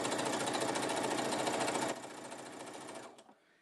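A sewing machine stitches fabric in a fast, even mechanical rhythm, loud and close, slowing partway through before stopping abruptly.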